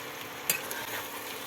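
Spinach and vegetables with turmeric are stirred in a pan, a brief spoon scrape over a low, steady sizzle.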